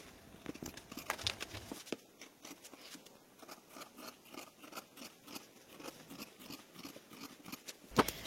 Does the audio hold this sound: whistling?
no